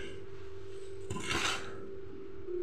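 Cocopeat and red soil being mixed by hand for planting, a dry gritty rasping and rubbing that swells for a moment over a steady low hum, close by with no talk.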